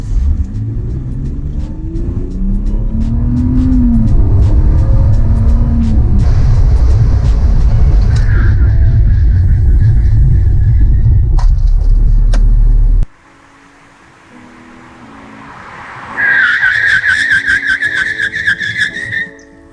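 A BMW E46 and a Fiat 500 in drag race performance testing, with loud roaring engine revving and tire noise up close, a sharp cutoff, then rising tire squeal and engine noise.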